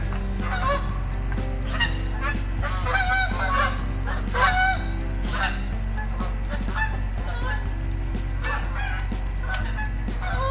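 Geese honking as they fly overhead outdoors: a steady chorus of many honks, some louder and nearer, over a constant low engine-like rumble, with no talk.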